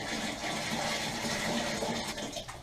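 Water poured from a bucket into the tub of a Panda portable washing machine, a steady continuous splashing gush heard close up and alone.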